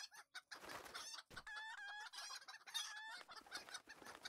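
Chickens cluck and chatter in the Lord of the Rings Online video game at a courtyard in Esteldin, a busy run of close, repeated clucks and squawks with no talking.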